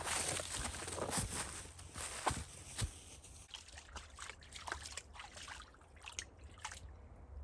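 Water trickles and drips through a small wash outdoors, a soft steady babble with scattered crunchy footstep-like sounds close by.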